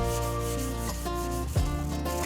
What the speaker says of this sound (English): Now I'm going to come back with some 600 grit sandpaper and just smooth this all off.